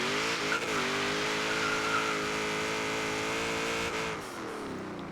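A 1966 Chevrolet Nova in Forza Horizon 3 spins its wheels in first gear, a loud, sustained engine drone with tire squeal that holds steady, then drops in pitch and level near the end.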